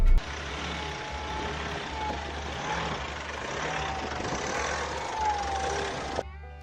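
Nissan Navara Pro 4X 4x4 pickup with differential lock and all-terrain tires driving over muddy terrain, a steady low engine drone with broadband road and splash noise running continuously, then cutting off sharply near the end.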